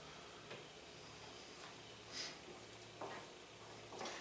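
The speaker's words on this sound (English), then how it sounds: "Still getting some sizzle here." Faint, steady sizzle of a hamburger quesadilla frying in a pan, a soft continuous hiss with a few brief louder crackles and stirring clicks, no talk.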